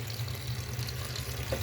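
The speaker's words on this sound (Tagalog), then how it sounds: "kukunti na lang yung tumatagas sa gripo." A weak, thin stream of water runs steadily from a kitchen faucet, a low continuous rush close by with no talk over it.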